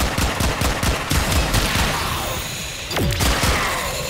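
Rapid gunfire from a slow-firing gun in the video game Warframe, loud, dense repeated shots and impacts over a continuous din of game effects, with no talking.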